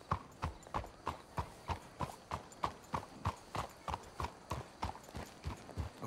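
Steady, evenly spaced hoofbeats of several horses clip-clopping at a walk on a road in the Western game Red Dead Redemption 2, crisp and fairly close, with no talking.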